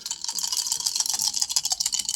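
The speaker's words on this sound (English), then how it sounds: "Shuffling the deck, dealing the cards." A deck of cards for a board wargame is shuffled up close, giving a quick, steady stream of crisp riffling and flicking rattles with no speech.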